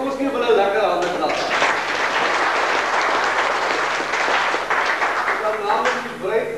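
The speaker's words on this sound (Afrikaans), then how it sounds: "Kom ons gee vir hulle lekker hande klap." Wedding guests applaud a newly married couple, a dense, steady burst of clapping filling the room for several seconds before tapering off at the end.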